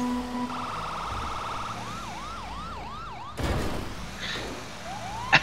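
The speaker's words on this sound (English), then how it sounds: "And occasionally, it'll make police siren noises." A police siren on a Grand Theft Auto video game vehicle wails, sweeping up and down in repeated arcs, joined by a steady electronic tone, then a sudden burst of noise and a brief rising whoop near the end.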